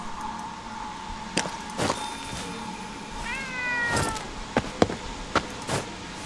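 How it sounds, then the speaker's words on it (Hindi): A cat meows several times in the video game Ghostwire Tokyo. The short, rising cries come in separate bursts over a quiet, humming game background, with a few sharp clangs mixed in. Nobody speaks. "एरिका की बिल्ली पीछा करते करते यहाँ आ गई बेचारी अपने मालिक को ढूंढ रही है"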